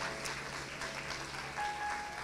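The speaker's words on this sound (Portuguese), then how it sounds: "Vamos aplaudir a Jesus por esse fato tão assim sobrenatural." A church congregation at a 24th anniversary service claps in a faint, even patter of applause that runs steadily without voices.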